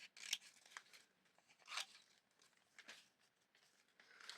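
Scissors snipping glasses out of a glossy free store magazine, a few quiet, close, separate cuts with soft paper rustling between them.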